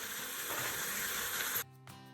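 Pieces of meat searing in an Instant Pot for a pot roast, a steady hissing sizzle that suddenly drops away near the end, leaving a quieter hum.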